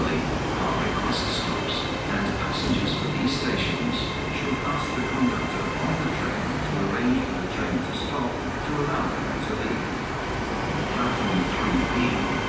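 Great Western Railway IET train at Exeter St Davids station on a Saturday evening, a steady broadband rumble with mechanical hum and faint clicks throughout, with people talking at the station under it.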